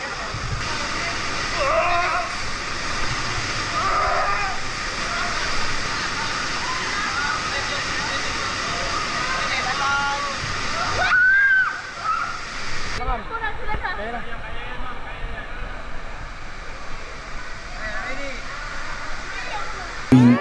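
A water slide in Cebu sends out a continuous rush of splashing water, with voices mixed in. The sound shifts abruptly partway through.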